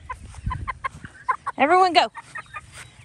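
Hens clucking in short bursts, then a louder drawn-out squawk, with a brief spoken phrase near the start.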